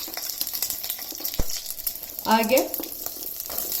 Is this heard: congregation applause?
no